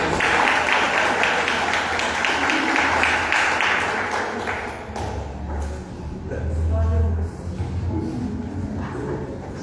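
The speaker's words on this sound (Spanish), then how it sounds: "Aplauda o Senhor, querido" Congregation applauding at a church service welcoming two pastors, loud clapping that fades midway as voices and shouting rise, with low thumps and a few sharp yelps mixed in.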